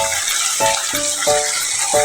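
Water pours steadily from a natural spring on a mountain property, a loud continuous rush with rhythmic low thumps repeating beneath the flow.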